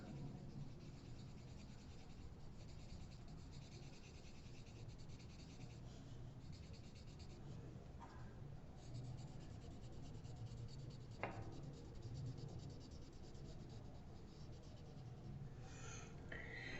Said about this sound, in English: We're going to do some erasing.